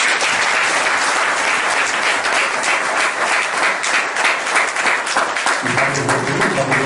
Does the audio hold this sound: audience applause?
yes